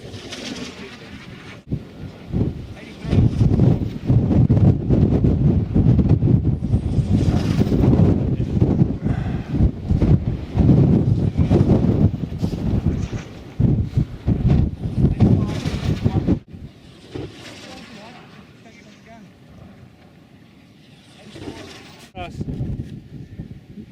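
Gusty wind buffets an outdoor microphone at a dust-devil chasing event near Lake Tekapo, New Zealand, roaring loudly for most of the stretch and then easing to a softer rush, with talking over it.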